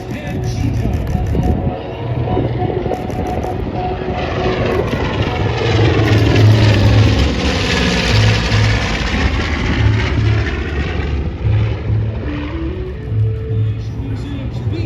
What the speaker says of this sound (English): Museum's B-25 Panchito.